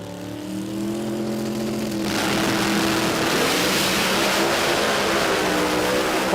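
A door car at an Australian drag racing meet makes its pass, its engine building from a low rumble into a loud, sustained roar that holds steady and close for several seconds.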